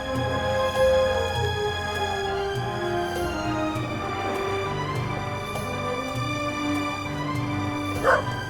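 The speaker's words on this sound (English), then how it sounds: "Stupid mutt! I'll get you this time!" A dog barks repeatedly in The Raven video game on PS4, loud close bow-wow yelps and whimpers over a steady tonal game music background.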